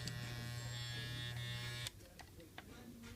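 An Andis Masters electric hair clipper runs with a steady, close buzz for about two seconds, then switches off, leaving faint handling noise.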